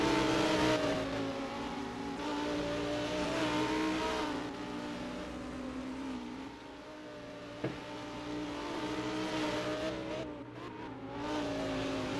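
Lamborghini race cars in a sports car feature race on track, engines droning and rising and falling in pitch as they accelerate and pass, steady and fairly distant throughout.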